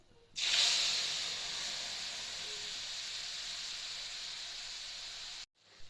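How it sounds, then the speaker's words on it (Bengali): Wet spice paste of cumin, coriander, chilli powder, salt and turmeric hitting hot oil in a pan: a sudden loud hiss that bursts in, stays steady and bright for about five seconds, then cuts off. "মশলাটা ভাজা হয়ে গেছে"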